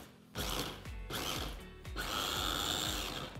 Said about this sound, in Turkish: Onları öncesinde bir robottan geçirelim.